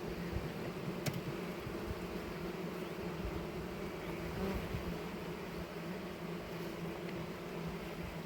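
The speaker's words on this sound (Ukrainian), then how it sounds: "працюємо з бджолов" Bees buzz in a steady, dense drone throughout during beekeeping work on queen rearing, close and continuous, with faint outdoor background and no talk.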